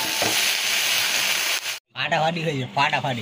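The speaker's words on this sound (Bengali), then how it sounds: "আওয়াজ পাচ্ছি চড়চড় করছে" Loud sizzling and crackling as food is stirred in a hot wok, broken by a brief gap, then a voice talks over the frying.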